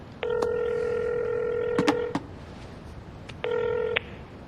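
A telephone keypad sounds two bursts of dialing tones, a long steady multi-tone run with a couple of clicks, then a shorter one, clear and close over a quiet hiss.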